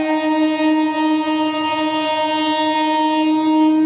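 A train sounds a long, steady, loud horn with a single unbroken sustained tone that holds for about four seconds, with no break and no voices.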